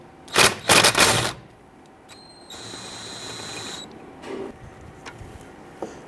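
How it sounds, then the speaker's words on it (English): An impact gun with a 14mm socket works on a rear brake caliper bolt of a 1994-2004 Jeep Grand Cherokee. A few loud, close hammering bursts give way to a steadier whirring run, then faint clicks. "use our 14mm socket extension, our impact gun, and we're going to loosen this bolt here"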